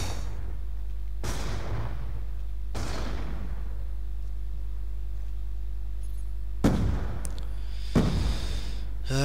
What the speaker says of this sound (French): Grenade paralysante.